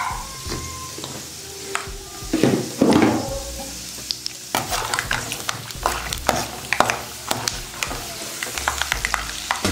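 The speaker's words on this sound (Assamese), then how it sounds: "তেলখিনি হৈ গ'ল বাদাম দি দিছোঁ" Peanuts fry in hot oil in a wok, a continuous sizzle broken by frequent scraping stirs and clinks of the spatula, close and fairly loud with no talking.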